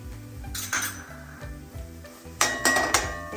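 Sautéed banana being mashed in a pan in a Kerala kitchen, with repeated metallic clinks and scrapes of a utensil against the pan, sharper bursts near the end, over a faint background hum.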